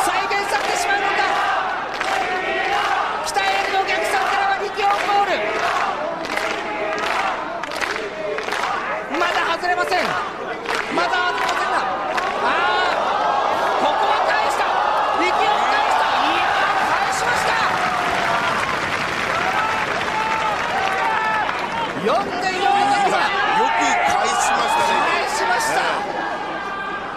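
Arena crowd at a Japanese professional wrestling match in the north, Jun Akiyama against Takeshi Rikio in 2001, roars and cheers continuously with rhythmic chanting and swells, under excited play-by-play commentary.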